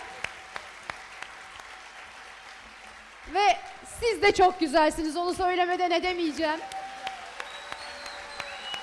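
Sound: audience applause at a Turkish folk music choir concert

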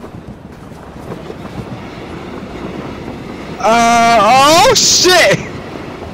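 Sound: train passing in H1Z1 video game

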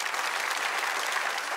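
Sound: audience applause

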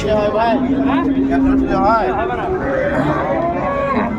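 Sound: cow and calf at a cattle market

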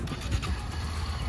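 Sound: Honda XRE 300 motorcycle engine starting and running

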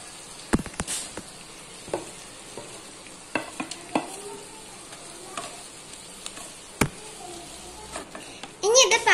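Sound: chopped ivy gourd (kovakka) added to a frying pan, sizzling

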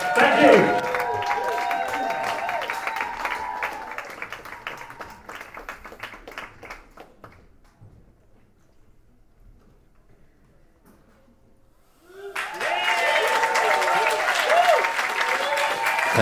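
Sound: audience applause at a live concert

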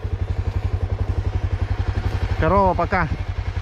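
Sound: Honda NX motorcycle engine running while riding

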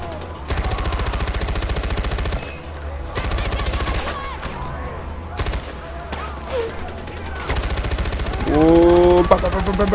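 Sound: machine gun firing in the video game Far Cry 4

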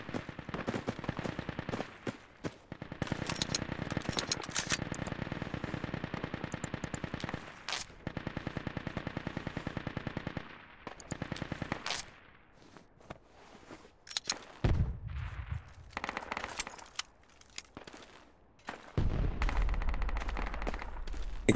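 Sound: machine gun fire in a video game

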